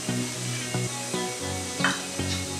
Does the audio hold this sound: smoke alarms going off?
no